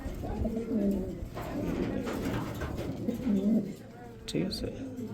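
Spanish pouter pigeons cooing in soft repeated rolling coos, close by, with someone talking over them throughout.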